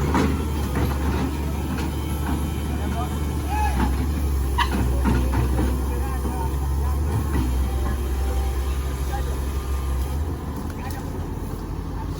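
Heavy equipment shifts position at a tanker truck recovery site, its diesel engine a deep, loud, continuous rumble with clanks and faint voices.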